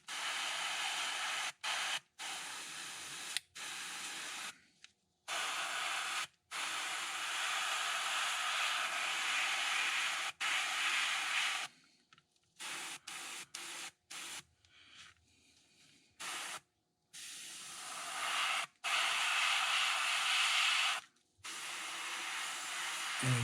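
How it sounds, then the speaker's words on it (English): Short bursts of fluorescent orange spray paint hiss onto a fishing lure, loud and close, several separate sprays broken by brief pauses, with no talking. "I'm spraying on the tape."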